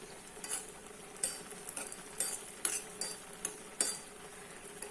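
Nuts roasting in a pan for pumpkin ladoo, a faint low sizzle broken by repeated sharp scrapes and clinks of a spoon stirring against the metal.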